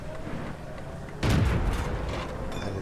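Tank gunfire in World of Tanks, a T71 battle on Erlenberg: one loud, booming cannon shot bursts out after a quiet stretch, then rumbles and decays into low battlefield noise.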